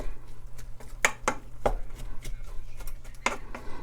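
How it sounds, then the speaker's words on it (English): A spatula chops ground turkey in a pan over medium-low heat, sharp irregular scraping taps, several loud strikes among softer ones, close and clear with no talking. "You want to chop up that ground turkey as fine as you can."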